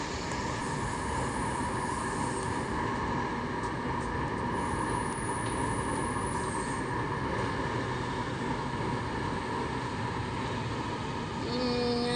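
An LRT train near an airport runs past with a steady rumbling roll and a high wheel squeal along the rail, heard at moderate distance and without talk.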